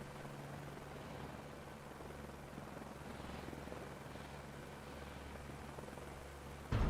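A video game helicopter drones steadily with a broad, constant rotor and engine wash, loud and unbroken throughout, struggling to climb, with no voices over it.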